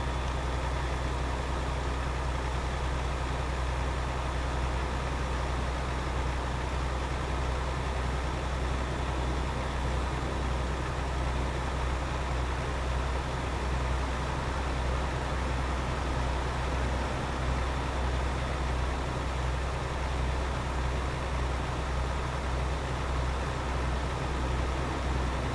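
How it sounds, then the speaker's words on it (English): A truck engine in Euro Truck Simulator 2 drones steadily with a low, heavy rumble and constant hiss throughout, loud and unbroken as the driver works through gear shifts, with no voices. "Especially if I'm shifting, listening strictly to the engine."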